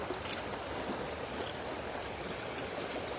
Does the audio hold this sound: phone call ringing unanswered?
no